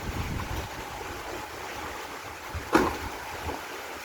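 Steady typhoon rain hisses and patters continuously on a house, with a brief louder splash or knock partway through and no voices.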